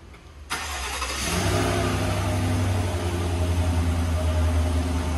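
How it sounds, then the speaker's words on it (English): A 2020 Chevy Silverado pickup truck engine cranks by remote start and catches about half a second in, then settles into a steady, loud idle with a low rumbling hum and no voices. "So obviously we got remote start here."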